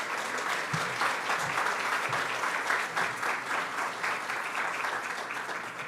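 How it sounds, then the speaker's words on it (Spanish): A seated audience at a journalism and literature panel talk gives a warm, continuous round of applause, many hands clapping evenly, with a few low thumps underneath. "Le damos un fuerte aplauso para motivar a doña María Isabel."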